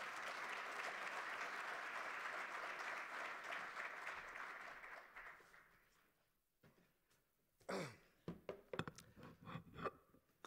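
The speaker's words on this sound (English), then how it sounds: "Let's give him a proper round of applause" Sustained audience applause fills a hall at a national green hydrogen conference in Namibia for about six seconds, then fades to near silence before a few scattered handling noises and knocks close by.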